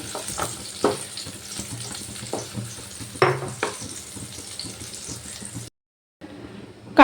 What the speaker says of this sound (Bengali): কাঁকরোলগুলো তো ভালোভাবেই লাল লাল করে ভাজা হয়ে গেছে